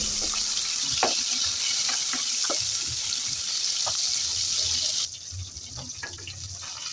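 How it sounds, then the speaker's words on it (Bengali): Fish pieces frying in hot oil in a pan, a continuous bright sizzle with occasional clinks and scrapes of a utensil, the hiss dropping partway through. "তো এখন মাছের পিসগুলো আমি লাল লাল করে ভেজে নেব।"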